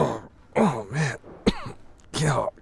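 Several rough, throaty coughs in separate bursts from a video game, This Is The Police 2, close up, with a short gap before the final one.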